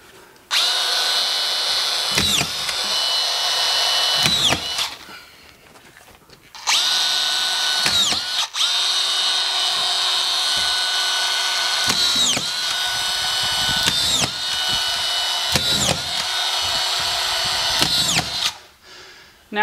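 Screw gun with an autofeed strip driving collated drywall screws into sheetrock, several loud whirring bursts a few seconds apart with brief quiet gaps between them, close up with no talking.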